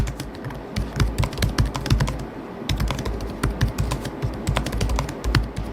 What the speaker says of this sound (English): Here's a sound test of the keyboard.